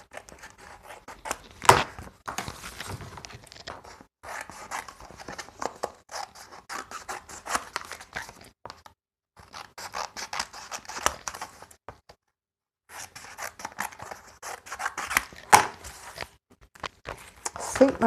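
Scissors trim the edges of paper in short snipping bursts separated by pauses, close and crisp, with occasional rustling in between.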